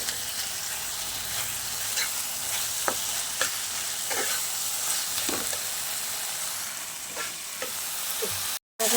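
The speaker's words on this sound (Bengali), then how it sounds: "এবার আমি ছানাটাকে দিয়ে দিলাম, দিয়ে আমি ভালো করে মিশিয়ে গ্যাসের ফ্লেমটাকে মিডিয়ামে রেখে আমি ছানাগুলোকে একসাথে" Chhana (paneer) stirred into a spice masala frying in a pan over a medium gas flame, a steady close sizzle broken by repeated scraping strokes of the spoon, with a brief dropout near the end.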